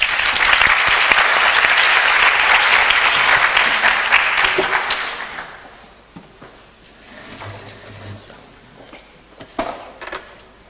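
An audience claps loudly to welcome two lecture speakers, a dense burst of applause that fades out after about five seconds into quieter room noise with a few scattered claps and shuffles.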